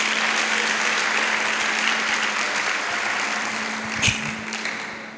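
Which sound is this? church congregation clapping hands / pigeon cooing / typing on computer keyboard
church congregation clapping hands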